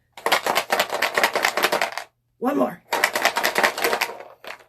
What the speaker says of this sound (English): I'm going to shake when you shake the dice